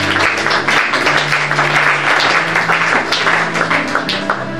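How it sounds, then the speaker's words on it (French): A church congregation at a Bible study applauds, a dense, sustained clapping from a large crowd that holds steady and loud throughout. "Acclame la puissance de la parole."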